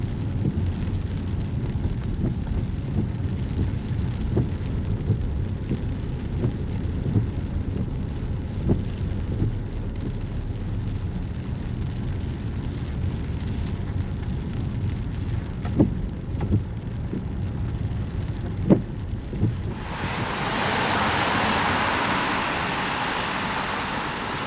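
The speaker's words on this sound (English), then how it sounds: "Storm Dave is certainly stirring things up a little bit." Steady rain from a passing storm on Scotland's Kintyre peninsula near Campbeltown, with a few low rumbles and sharp thumps that may be distant thunder, turning into a louder, hissing downpour near the end.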